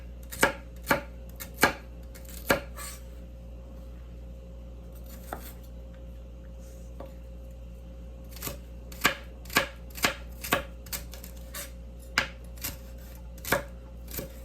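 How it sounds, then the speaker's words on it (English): A knife chops celery stalks into small pieces on a cutting board in a kitchen, giving crisp, close taps in short irregular runs with pauses between, over a quiet background hum. "I chop very small because nobody likes a huge chunk of celery in their mouth"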